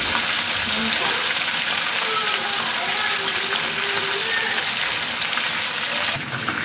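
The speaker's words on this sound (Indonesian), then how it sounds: "Kita goreng ikan selar" Scad fish (ikan selar) frying in hot oil in a home kitchen, a steady dense sizzle that runs unbroken and fairly loud from start to finish, with faint voice-like tones drifting underneath.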